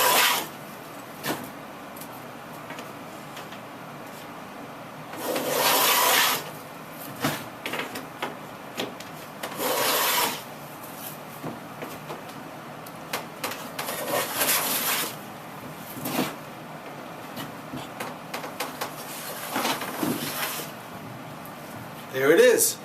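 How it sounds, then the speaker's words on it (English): A hand plane cuts a wood moulding, giving a run of rasping shaving strokes of about a second each. They come at irregular intervals, close and moderately loud, with quiet gaps between passes and no talk. "put the plane on the end, sight down, walk it through. And it takes a little molding off, a little shaving off."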